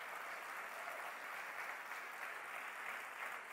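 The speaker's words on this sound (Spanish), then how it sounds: "Si hay gente acá honesta, des el mejor aplauso." Faint, distant audience applause at a Spanish-language motivational talk on learning from mistakes, a soft, even patter of many hands that holds steady for a few seconds with no speech over it.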